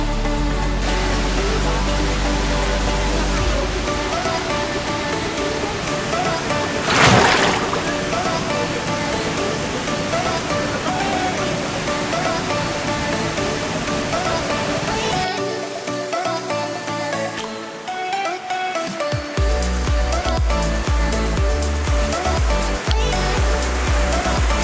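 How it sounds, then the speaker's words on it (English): A popular, heavily visited waterfall roars in a steady, loud wash of broadband rushing water, with no talk over it. "This is by far one of our favorite waterfalls."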